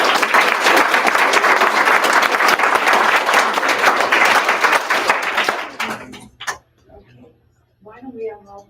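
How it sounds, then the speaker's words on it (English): Loud crowd applause follows a spelling bee round, steady and dense for about six seconds before tapering off, with voices and faint talk taking over at the end. "Round of applause for Kendall."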